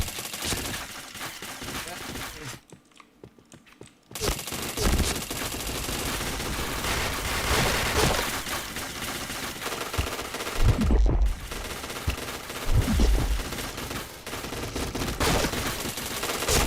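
Gunfire in a shooting video game, with rapid machine-gun bursts and shots crackling almost continuously, briefly cutting out twice, while players talk over the action.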